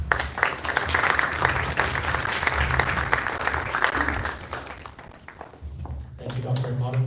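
Steady crowd applause fills a CNA boot camp completion ceremony, with dense clapping going on for several seconds and voices mixed in, then easing near the end.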